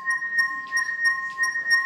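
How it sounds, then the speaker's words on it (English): Slowed-down sonification of microtubule resonance in the brain, heard as steady sustained tones with faint glassy shimmers swelling at intervals, eerie and continuous without voices. "So this is the sound of your microtubules singing inside your brain."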